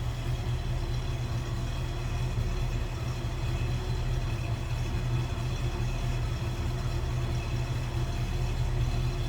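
A 1955 Dodge Royal Lancer engine idles steadily, a smooth low rumble from the exhaust with no revving, close by and alone.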